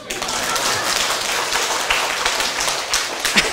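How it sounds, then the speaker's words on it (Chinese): Audience applause breaks out during a lecture at a Taiwanese civil-government senior administrative training class, a dense, steady patter of many hands clapping that continues throughout, with voices mixed in. "哎，即马开始在拍手。"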